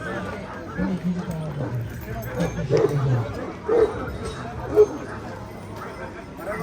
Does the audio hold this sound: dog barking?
yes